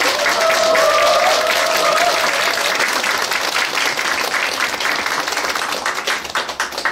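Party members gathered at the People's Party Daegu city chapter office give a loud, sustained round of applause. A brief voice rises over it early on, and the clapping thins and grows more scattered toward the end.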